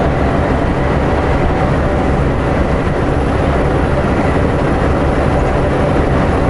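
A long freight train rolls past in a continuous, heavy low rumble that stays even and loud throughout, with no voices over it.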